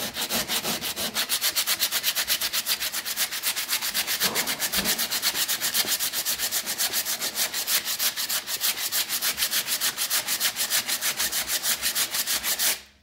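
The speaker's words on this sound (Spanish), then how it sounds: "lo que vamos a hacer es lijar. Lijar para quitar todo eso." Rapid, rhythmic back-and-forth sanding of wooden door frame trim, loud and close, continuing steadily for several seconds before stopping abruptly.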